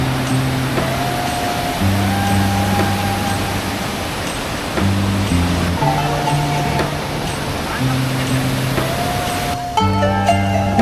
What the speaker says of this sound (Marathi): नदीला घातलेल्या बंधाऱ्यावरून वाहणाऱ्या या पांढऱ्या शुभ्र धारा